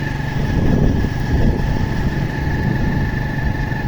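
A motorbike engine hums steadily while riding through DHA Karachi, a low continuous drone with no talk over it.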